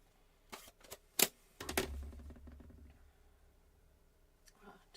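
Paper card being cut for stamped blossom birthday cards, a few sharp snips and clicks close by, then a soft scraping rustle that fades out.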